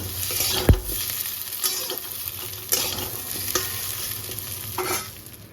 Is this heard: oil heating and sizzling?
yes